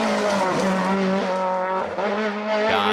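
A rally car races past on a stage through hills and trees, its engine screaming loudly and steadily with gear changes, the roar echoing off the terrain, no voices over it.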